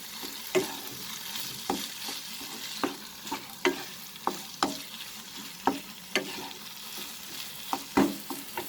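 Crumbled paneer being stirred and fried in a pan for paneer bhurji: a soft steady sizzle with a spoon scraping and tapping the pan in irregular clicks, no voices.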